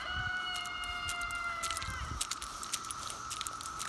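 Chickens clucking and calling close by over steady background hum, with a few sharp higher chirps scattered through.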